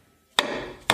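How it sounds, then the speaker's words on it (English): Two sharp, loud hammer blows on metal knocking out a scooter axle, the second strike about half a second after the first, each with a short ringing decay and no voices. "Now you use the hammer."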